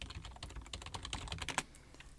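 Quiet, rapid clicks of a computer keyboard as a command is typed, a burst of keystrokes with no voice.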